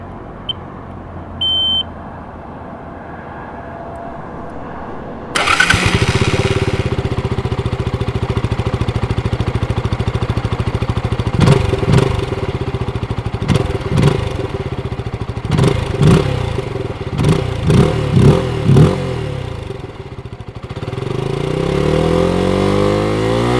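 Zontes U1-125 trail motorcycle starting with a sudden engine catch, then idling and revving in a series of sharp throttle blips before riding off with a steady engine drone, close and loud.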